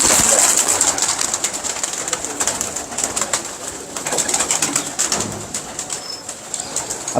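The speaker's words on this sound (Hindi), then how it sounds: "तादाद है जी कबूतरों की, बड़ी तादाद है।" Pigeons coo and flutter nearby at a rooftop loft in Lahore amid a busy outdoor hum, with occasional wing flaps and scattered calls throughout.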